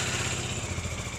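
A KTM Dominar 400-class motorcycle engine starting cold and idling with a high injection time, a steady close rumbling with a continuous low throb throughout and no talk.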